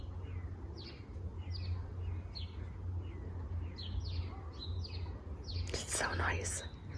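Birds chirp outdoors in a garden in short repeated calls at a moderate distance over a low steady hum. Near the end comes a louder burst of close, bright sound.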